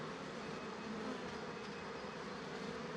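A dense, steady buzzing of many honey bees fills the air continuously, close and fairly loud, with no voices.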